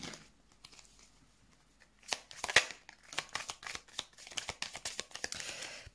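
Tarot cards being shuffled for a card reading, giving soft papery riffles and flicks that start quietly and become a busier run of close, crisp card sounds.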